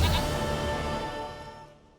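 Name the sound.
goat bleating in The Witcher 3 video game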